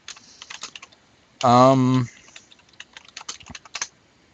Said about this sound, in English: Do my loud ass typing.